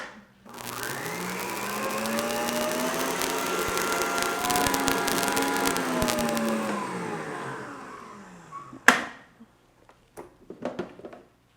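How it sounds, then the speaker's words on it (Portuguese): A stand mixer beats sugar and eggs at high speed, a loud steady motor whine with rising pitch for several seconds, then it stops and a few clattering knocks follow. "Agora eu vou levar aqui para a batedeira o açúcar com os ovos e bater bem em velocidade alta até ficar um creme bem fofo"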